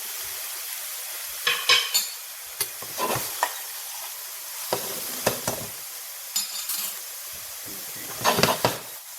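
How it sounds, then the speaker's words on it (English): Chopped yellow onion and vegetables wilt in a pan under a faint sizzle, with repeated scraping strokes of a utensil arriving in short irregular bursts. "We're just simply wilting our vegetables. So we're cooking them until they become translucent."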